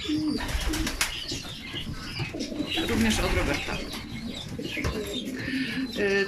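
Young pigeons coo softly in a loft while someone talks steadily over them, with occasional wing flutters and rustling close by.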